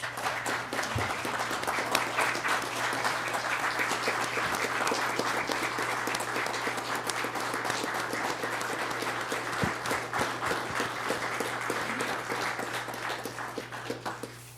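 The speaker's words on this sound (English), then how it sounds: "I just think we should give him a big round of applause." Sustained applause from a crowd at a Board of Commissioners meeting, steady dense clapping throughout with a low hum underneath.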